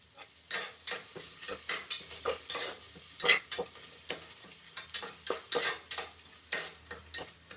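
Green chillies, bay leaf, cinnamon and garlic sizzle in oil while a spoon scrapes and stirs the pan in steady, repeated strokes. The sound is close and moderate, with no voices.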